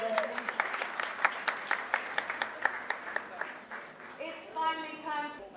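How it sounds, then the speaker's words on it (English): An audience at an awards ceremony claps in a loud burst that thins into scattered claps, then a voice comes in over the last of it. "Let's give them another big round of applause, ladies and gentlemen."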